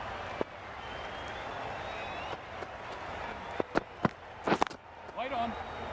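A crowd at an IPL cricket match between RR and DC applauds a batsman's century, a broad sustained roar of clapping and cheering with a few sharp knocks and a voice near the end.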